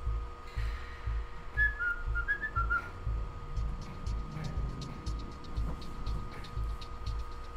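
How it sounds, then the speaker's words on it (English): Whistling in the Underhell game, a few short melodic whistled notes heard faintly over a steady low engine-like hum and ticking ambience. "Whistle."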